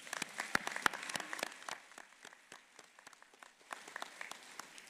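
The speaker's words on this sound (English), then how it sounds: "Let's give them another round of applause." Scattered applause from a graduation ceremony audience, individual claps distinct and fairly faint, swelling and thinning in uneven bursts with no voices over it.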